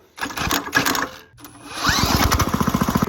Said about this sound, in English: I have to stick a power drill in the thing now.